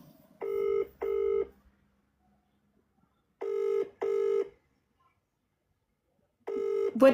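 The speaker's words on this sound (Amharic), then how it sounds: "ይኸው እየደወልኩ ነው፣ እየጠራ ነው፣ አያነሱም።" A phone ringback tone for an unanswered call to a restaurant repeats three times, each a pair of short buzzing rings separated by silence, clear and close.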